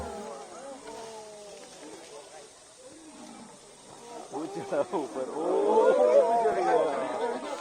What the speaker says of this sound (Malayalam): പുലിയുടെ പുറകെ പായുന്ന കടുവയുടെ ദൃശ്യങ്ങൾ കണ്ടിട്ടുണ്ടോ